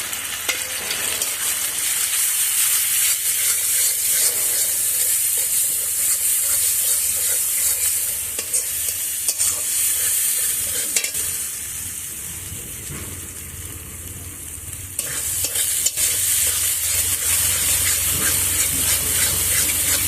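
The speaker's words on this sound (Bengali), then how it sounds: "এবার মশলাটা খুব ভালো করে কষাতে হবে।" Spices with chilli and turmeric frying in a pan for a chicken curry, a loud continuous sizzle with steady scraping and stirring throughout, briefly quieter midway before rising again.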